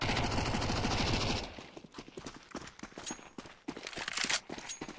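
Gunfire in Counter-Strike 2: a dense burst of rapid automatic fire, then scattered sharp shots and clattering impacts, loud and close within the game's mix.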